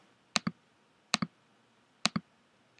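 Paired mouse clicks repeat at a steady pace, four double-clicks in a row, close and crisp against a quiet room while items are selected on a computer.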